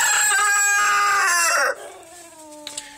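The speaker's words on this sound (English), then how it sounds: "So these chickens, that's called hen pecking." Chickens in a backyard coop, a one-year-old hen and a 12-week-old bird, giving loud, close, drawn-out crowing calls with a fainter second call trailing after.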